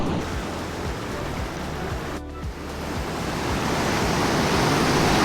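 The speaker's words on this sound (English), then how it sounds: "We're about to come up to some big rapids." Rushing river rapids in remote wilderness fishing country, a steady broadband roar of churning water that fills the clip, with a brief dip partway through before the rush swells slightly louder.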